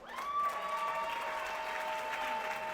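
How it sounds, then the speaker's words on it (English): An audience at a union tribute dinner for a retiring president applauds continuously at moderate distance, with a thin sustained whistle-like tone ringing above the clapping. "I've never heard so much clapping for somebody getting fired"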